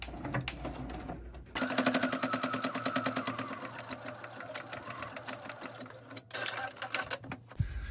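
A domestic sewing machine stitches through fabric while a small fabric tray is sewn, with a fast, steady mechanical clatter of the needle running loudly for several seconds, briefly pausing and then starting again near the end.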